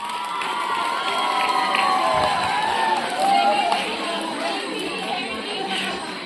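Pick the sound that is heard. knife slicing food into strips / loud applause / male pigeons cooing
loud applause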